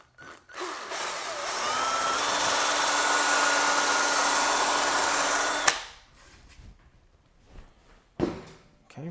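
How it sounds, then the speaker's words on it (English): A 1/4 inch power drill whirs steadily at high speed for several seconds while drilling down at an angle, then stops, followed by a few clicks and knocks of handling. "We're taking our 1/4 inch drill, and we're going to be drilling down at an angle."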